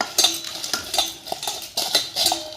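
A spoon scrapes and clinks against a pan while onion and tomato are stirred together with coriander leaves, giving a run of irregular metallic knocks and scrapes close up.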